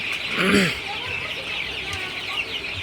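Sonali super hybrid chickens in a hot, stuffy coop give a short burst of clucking near the start, followed by quieter cackles and steady background noise.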